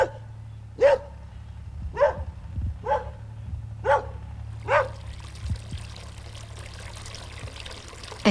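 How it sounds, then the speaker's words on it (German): A single dog barks five times at steady intervals of about a second, clear and somewhat distant in a quiet valley, with a low hum and a faint trickle of water underneath. The barks then stop and soft ambient noise remains. "An diesem Tag war das der einzige Hund, der ohne störende Nebengeräusche aufgenommen werden"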